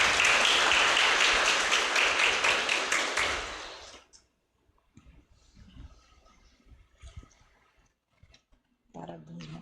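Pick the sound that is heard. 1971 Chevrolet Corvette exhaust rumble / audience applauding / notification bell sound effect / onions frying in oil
audience applauding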